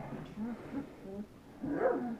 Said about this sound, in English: Growling and barking.